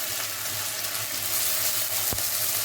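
Green chillies and onions fry in a pan, a close, steady broadband sizzle with one brief clatter near the end.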